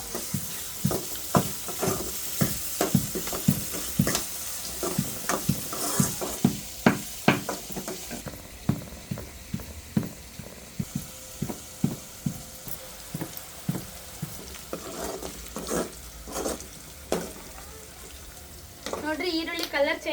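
Chopped onions fry and sizzle in a pan for a ragi mudde and field bean curry, with steady crackling and repeated sharp scrapes and knocks of stirring, fairly close and loud, broken by a brief quieter stretch.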